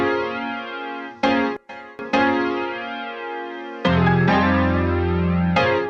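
A hip-hop diss-track beat built in FL Studio plays through Guitar Rig's old guitar tapes preset, sustained warbling tape-style chords with brief dropouts and a heavier bass-laden section entering midway, loud and alone.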